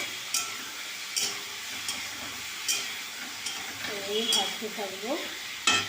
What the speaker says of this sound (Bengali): এবার আমি ভাজতে থাকবো,